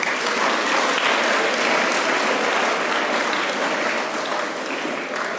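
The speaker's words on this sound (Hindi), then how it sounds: "तालियां बजाओ इसके लिए।" School students at an outdoor-themed school event in Dehradun clap steadily and loudly in a dense, even burst of applause that lasts throughout, with no talking over it.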